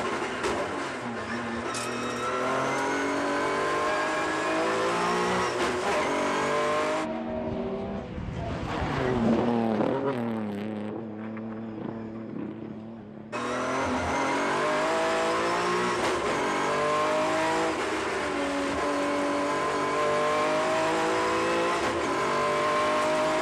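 Inside a lightweight, rebuilt Nissan 30Z race car lapping Tsukuba Circuit, the engine roars loudly at high revs, drops briefly as the driver shifts and brakes, then climbs hard again.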